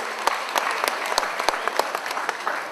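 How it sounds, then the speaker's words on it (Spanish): Guests at a quinceañera give a steady round of applause, dense close clapping with sharp individual claps standing out, sustained throughout. "También un aplauso fuerte, fuerte, fuerte, que se escuche para los padrinos"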